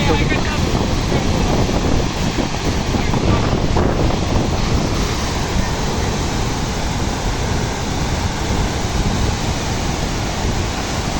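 Heavy rain and rushing water roar continuously at close range at Parleshwar Waterfall, a dense wash of noise with wind buffeting the microphone.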